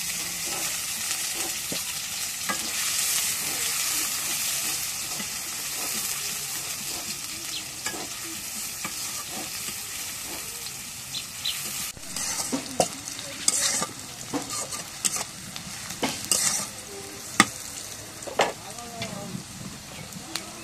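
Onions sizzle and crackle in oil in a pan, with steady frying hiss and scraping stirs that grow busier and sharper toward the end, heard close up with no talk.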